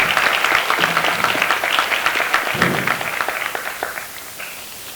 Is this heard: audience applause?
yes